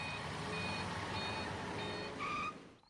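In a cartoon, a car reverses into a parking spot with steady, evenly spaced high reversing beeps over a constant engine hum, ending with a brief higher tone.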